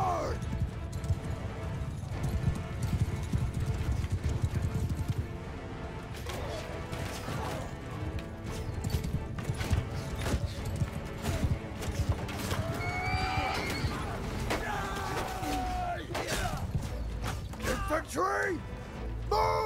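Cavalry horses gallop and neigh in the medieval battle game Bannerlord, with steady clattering hooves, several loud whinnies rising over the din, and shouted commands and battle noise throughout.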